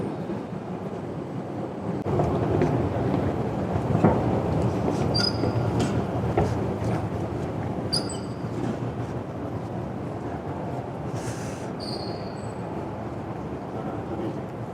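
A GTX train on the Gyeonggang line departing from Dongtan rumbles steadily through an underground station, a continuous loud low roar with faint brief wheel squeals scattered throughout.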